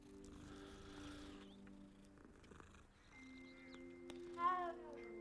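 A faint cat purr with a short meow from a multicoloured cat in Hogwarts Legacy, quiet and low beneath soft sustained game music.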